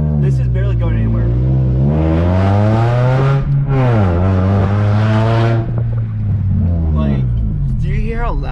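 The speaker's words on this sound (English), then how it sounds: "you guys are about to hear how loud and annoying this car can be" A modified 2005 Acura RSX accelerates hard and close, its engine droning loudly. The pitch climbs through several gears, dips between shifts and rises again.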